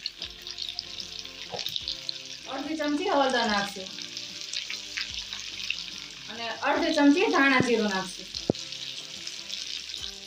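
Bell peppers cooking over a low flame in a pan with spices give a soft steady sizzle with faint clinks, under someone speaking twice in between.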